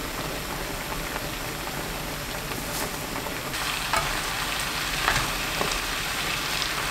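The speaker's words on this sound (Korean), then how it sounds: "양념 물기가 사라질 때까지 가끔 저어가면서 끓입니다." Potato and fish cake braise in a spicy sauce on medium heat, giving a dense, even bubbling sizzle with occasional soft stirring scrapes, steady and close, growing slightly louder partway through.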